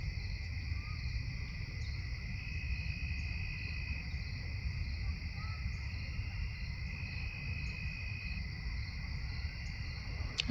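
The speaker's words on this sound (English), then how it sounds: "I think we're hearing the cicadas." Cicadas at sunset, a continuous high steady drone in two layered bands, fairly faint over a low outdoor rumble, with no talk over it.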